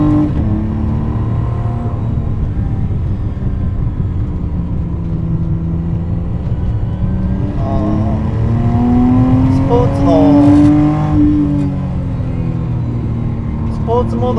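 A 2025 McLaren Artura sports car drives on a half-wet winding road, its engine humming steadily and then rising in pitch as it accelerates, with someone talking over it.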